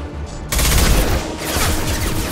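Rapid automatic gunfire from a Mass Effect 2 firefight bursts in after a half-second of quieter background, sustaining a dense, loud fusillade of overlapping shots to the end.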